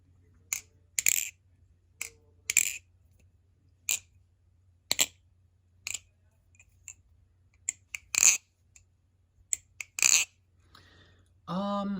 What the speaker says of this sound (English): the satin sounds more bouncy to me. It sounds more glassy and more bouncy than the matte